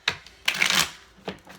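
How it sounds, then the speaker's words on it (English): Quick papery riffles of tarot cards being shuffled, two or three short bursts with brief pauses, close by and fairly quiet. "I feel like another shuffle here."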